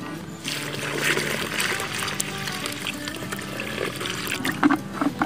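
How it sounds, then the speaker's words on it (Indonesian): Liquid poured into a homemade cricket feed mixture, a continuous splashing, trickling pour up close that lasts several seconds, ending with a few small knocks. "kita tinggal tuangkan saja."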